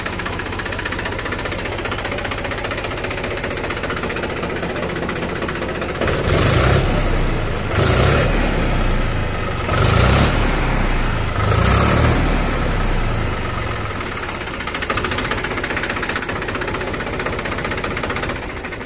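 A 2007 Mahindra 265 DI tractor diesel engine of about 30 horsepower runs with a knocking idle, close and loud, with three or four short revs in the middle before settling back to idle.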